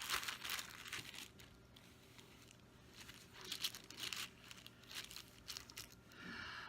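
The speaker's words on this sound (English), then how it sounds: "getting my plastic bag first." Plastic bag crinkling close up during a sliding watercolor painting session, with several bursts of rustling and crackling spread across the clip, separated by quieter gaps.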